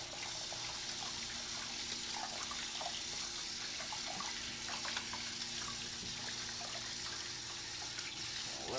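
Tap water runs steadily over a freshly cleaned and cut catfish, a constant close splashing rush with faint scattered spatters and no talking.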